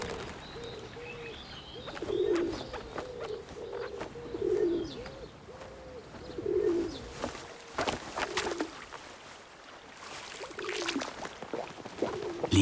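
Pigeons on a beach coo repeatedly in soft, low rolling calls, with scattered chirps and flutters, then brighter clicks and splashy bursts later on.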